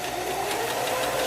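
A sewing machine starts stitching needle down on a quilt block, a steady close mechanical whir with a fast even rhythm that runs continuously and loudly with no talking.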